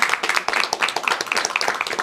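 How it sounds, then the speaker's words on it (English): Scattered clapping at a city hall meeting, close and irregular, with sharp individual claps overlapping into light applause, attributed to a young daughter among the attendees. "I believe her daughter is clapping"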